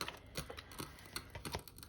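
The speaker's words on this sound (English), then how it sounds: "My candle's making loads of noise." Irregular, close crackling and sharp little pops in quick succession from a burning candle, with no voices.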